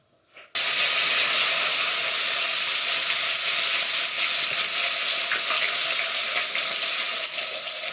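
Loud, steady sizzling of ginger garlic paste hitting hot oil, a bright crackling hiss that starts abruptly and holds evenly close to the microphone.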